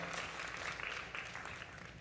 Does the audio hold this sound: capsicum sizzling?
no